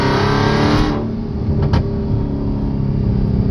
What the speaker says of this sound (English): my neighbor said my car too loud